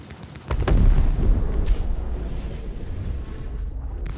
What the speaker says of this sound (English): I'm just gonna use my top port turret to destroy it.